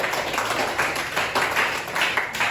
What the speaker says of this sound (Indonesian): silakan dulu tepuk tangan dulu untuk teman-teman